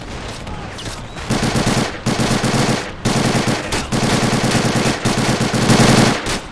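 Loud machine gun fire rattles in rapid sustained bursts during a Men of War Assault Squad 2 World War II battle, with brief gaps between the volleys.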